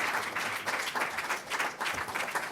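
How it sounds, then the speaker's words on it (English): A crowd applauds steadily, dense clapping that swells and dips slightly in waves throughout, fairly close and continuous. "Let's bring him on with a warm round of applause"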